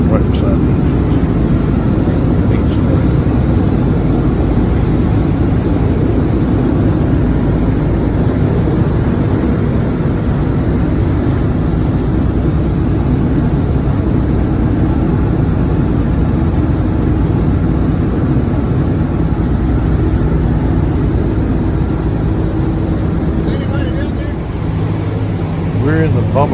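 Inside a B-17 Flying Fortress bomber, in the bombardier section just ahead of the engines, the radial engines produce a loud, constant droning roar that fills the whole stretch without a break.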